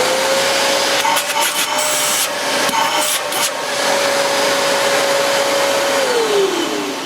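A 750-watt Hoover Blaze Pets bagless upright vacuum draws suction through its stretch hose, a loud, steady whining roar that drones on throughout and drops in pitch near the end.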